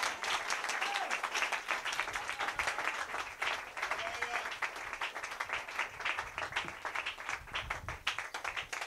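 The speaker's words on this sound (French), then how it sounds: "Donnez-lui une main d'acclamation" A church congregation claps during a sermon, rhythmic and fairly unified clapping that pulses steadily, with a murmur of voices mixed in underneath.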